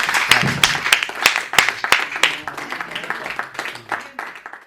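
Applause from an audience at a Hindi poetry gathering greets the poet Raj Kumar Anjana from Prayagraj, a dense wash of many hands clapping at close range for several seconds and slowly thinning toward the end.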